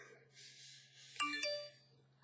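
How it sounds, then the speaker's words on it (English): A phone notification rings out as a short bright ding with a brief second tone, fairly quiet, over a low steady hum in an indoor craft setting. "Sorry about the phone"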